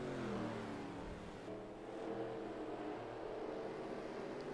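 Race cars in NASCAR Racing 2003 on a track in Australia with two laps to go, engines droning and revving in a steady layered roar, moderately loud with no one talking.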